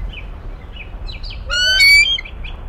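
A cartoon bird gives a few short chirps, then a louder, bright squawking call with a rising tone that stands out clearly over a quiet background.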